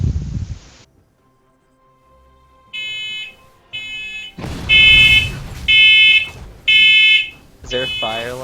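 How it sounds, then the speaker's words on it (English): A fire alarm sounds in repeated loud beeping bursts of roughly a second each, five or six in a row, close and piercing, with other noise and a voice between the bursts. "Is there a fire alarm going off?"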